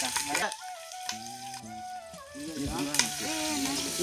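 Green chili and tomato frying in a pan for village-style biryani, a close sizzle with stirring under an overlapping voice and music-like tones.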